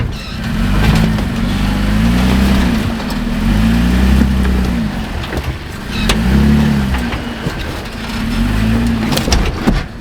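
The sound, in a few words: IFS truck engine driving up a rough mountain trail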